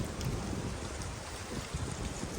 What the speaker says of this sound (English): and it still gets gusty like right now